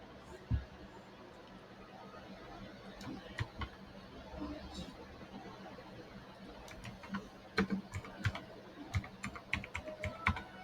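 An IMEI number is typed on a computer keyboard, quiet irregular key clicks tapping out in short runs, faint against a low background hiss.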